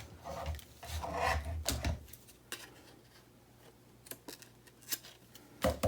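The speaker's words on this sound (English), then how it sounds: "now I can go ahead and trim off the excess back here." Paper being trimmed for a handmade fall folio, with soft rubbing and rasping strokes followed by scattered sharp snips and clicks. The sounds are close and fairly quiet, with no talking.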